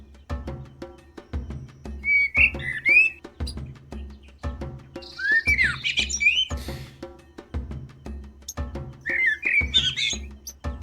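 Cartoonish bird chirps and squawks from the video game Copycat, several short bursts of whistled calls repeating over a steady rhythmic game background pulse.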